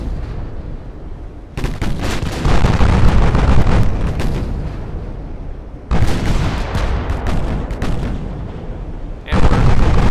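Battleship guns fire in the naval game Ultimate Admiral: Dreadnoughts, three heavy booming salvos spaced seconds apart, each followed by a long rumbling roar, loud and close.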